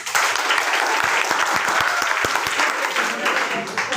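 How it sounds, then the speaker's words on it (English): Students in a classroom clap their hands together, a dense continuous patter of many hands with a few sharper individual claps standing out, sustained for the whole stretch. "Clap your hands."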